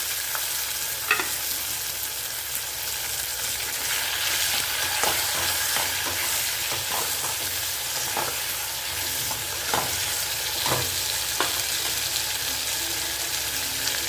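Chopped onion and tomato sauté steadily in a pan, a continuous close sizzle broken by repeated scraping and stirring strokes, with no voices.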